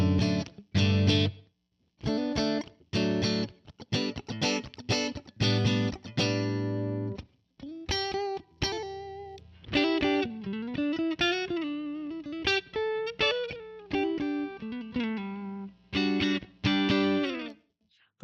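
A clean, full-bodied electric guitar tone played through an Ampero Mini with a touch of spring reverb: choppy strummed chords separated by short silences, then a sustained run of single notes and bends, then more chords, close and clear.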